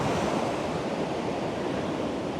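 Sea waves wash ashore on a beach in a continuous loud, rushing roar of surf, with wind buffeting the microphone and no voices.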